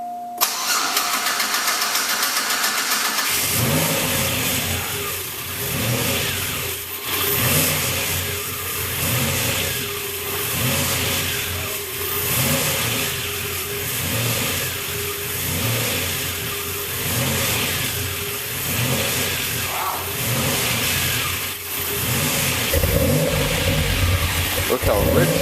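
A car engine cold-starts after a fuel pump fix, cranking and catching, then settles into a rough idle with repeated rhythmic rises and falls of revving, close and loud, with voices talking over it.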